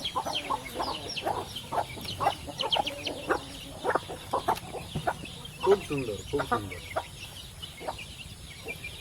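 Parrot-beak hens and chicks cluck in short, uneven bursts close by, a scatter of sharp calls across the stretch while someone speaks briefly among them.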